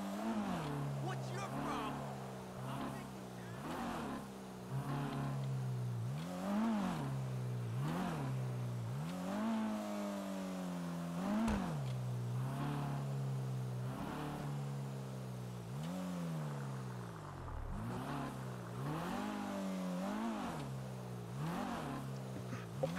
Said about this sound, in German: Ich habe ja ein Auto, womit ich dann schnell wieder da hochfahren kann